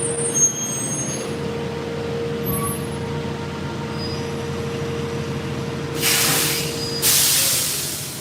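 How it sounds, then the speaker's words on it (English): A big truck pulls in and idles with a steady low engine drone, then two sharp bursts of air-brake hiss near the end. "Let this big truck come in."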